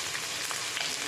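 Onion and green chilies fry in hot oil, a short, even hiss of sizzling close by with faint stirring underneath and no voices.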